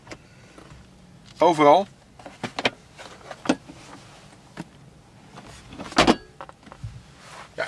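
The electrically adjustable panoramic roof of a 2019 RAM 1500 Laramie Sport V8 moves with a short motor whir, among scattered clicks and someone speaking Dutch.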